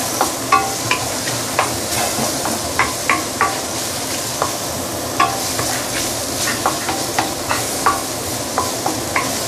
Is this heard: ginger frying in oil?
yes